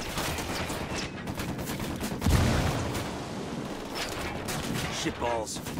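Video game gunfire from Ghost Recon rattles in dense, continuous bursts with a heavier blast midway, loud and close throughout, while a voice talks over it.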